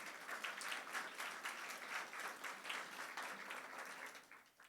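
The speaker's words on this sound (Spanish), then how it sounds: "De un aplauso al Señor esta mañana" A church congregation applauding during a Sunday morning service, a sustained, even wash of many hands clapping together for a few seconds, heard from a slight distance and fading at the end.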